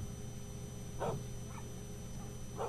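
A few short dog barks sound from a distance, faint and spaced apart over a low background hum.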